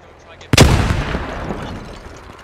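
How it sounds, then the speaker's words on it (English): A grenade in the video game Operation Pericles detonates with a single sharp, loud blast that rolls into a long, fading rumble. "Grenade!"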